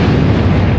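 A loud, dense rumbling blast like an electrical transformer blowing outside, filling the whole short moment with a sustained low boom and no voices.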